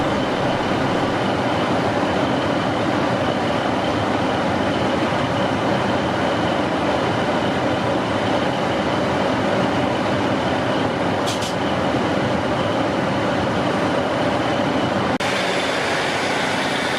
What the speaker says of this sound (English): The Carlisle train prepares to depart.